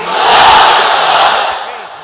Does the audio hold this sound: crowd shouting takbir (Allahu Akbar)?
yes